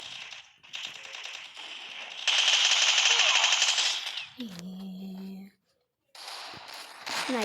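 Video game gunfire comes in dense rattling bursts, loud and close, with a sniper rifle in use. The shots are broken by short pauses and an electronic tone, and no voice is heard.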